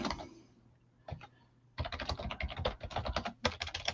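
Rapid keyboard typing, close and clear, in bursts with a short pause near the start, the clicks coming in quick uneven runs.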